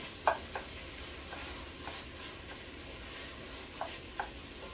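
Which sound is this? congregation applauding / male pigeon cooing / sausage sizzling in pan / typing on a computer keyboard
sausage sizzling in pan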